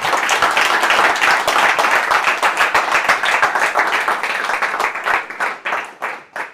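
Audience applause at an energy-company product launch, loud dense clapping from a crowd that thins into a few separate claps near the end.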